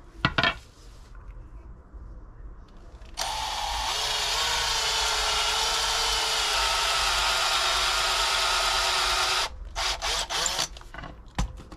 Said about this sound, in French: on va percer au milieu